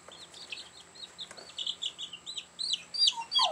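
Two-week-old Asian black chicks chirp and peep in a busy, overlapping chorus of short high calls, close by and growing louder toward the end, with no talking.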